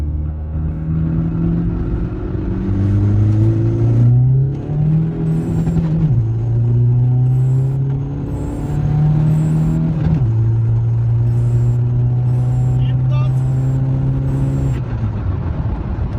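A Volkswagen Polo 1.9 TDI Cup Edition diesel, tuned to about 300 hp, revs hard and climbs through several gears, each shift dropping the pitch before it rises again, loud and close with steady road noise.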